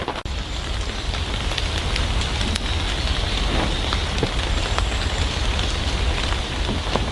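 Heavy rain drumming on a canvas WW2 officers tent in a forest at night, a dense continuous hiss of drops with a few louder individual hits, steady and close throughout with no voices.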